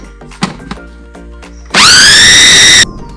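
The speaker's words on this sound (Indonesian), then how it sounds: "Saya blender ulang ya" A few clicks and knocks, then a blender motor grinding beef meatball dough with ice whirs up loudly at close range for about a second with a rising whine before cutting off.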